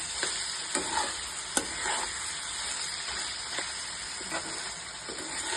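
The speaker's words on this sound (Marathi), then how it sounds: "आणि आता आपण टमाट्याचा सॉस घेऊया. तो टाकूया. परतून घेऊया." Tomato sauce sautés with soybeans in a pan for soybean chilli, giving a continuous hissing sizzle broken by regular stirring clicks and scrapes, close and fairly loud, with no speech.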